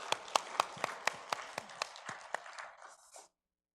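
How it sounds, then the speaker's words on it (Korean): Church congregation at a Sunday worship service applauding after a choir's praise song, a brief burst of scattered, distinct hand claps with a few sharp individual claps standing out, fading out after about three seconds. "영광의 박수 올리겠습니다."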